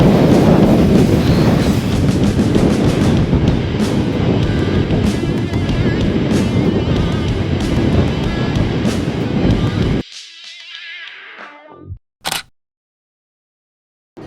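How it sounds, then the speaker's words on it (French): Strong desert wind in a sandstorm roars and buffets the microphone with heavy rumbling gusts for about ten seconds, then cuts out abruptly, leaving near silence broken by a couple of brief clicks. "Il y a 1000 km/h de vent, sérieusement c'est l'enfer."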